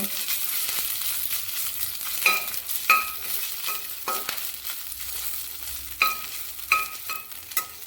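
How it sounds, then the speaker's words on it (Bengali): Ginger paste fries in hot oil in a wok, giving a steady close-up sizzle broken by several sharp scraping clicks from stirring. "আদাটা একটু ভালো করে ভেজে নেব"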